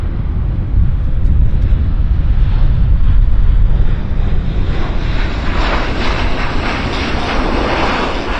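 Heavy airliner landing at Vancouver airport, a loud, continuous engine roar with rushing wind, steady throughout and sweeping slightly as the plane passes.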